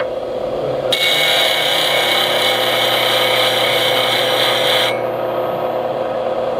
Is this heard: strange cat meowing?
no